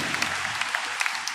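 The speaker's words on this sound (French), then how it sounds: "Est-ce qu'il mérite un applaudissement?" A congregation at a Sunday morning Mass claps briefly, a moderate, slightly scattered round of applause with a few sharper individual claps.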